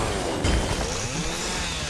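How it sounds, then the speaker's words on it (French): A buzzing chainsaw in Fortnite drones steadily, harsh and continuous, with game-like effects over it and no speech. "La tronçonneuse elle fait n'importe quoi, elle t'attaque."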